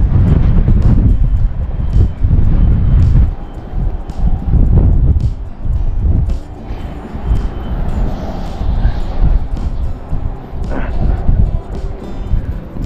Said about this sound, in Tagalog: sobrang lakas ng hangin tapos malamig